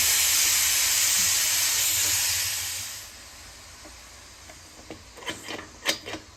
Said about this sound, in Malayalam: കുക്കറിൻ്റെ രണ്ട് വിസിൽ വന്നിട്ട് നമുക്ക് എയർ കളഞ്ഞിട്ട് എടുക്കാം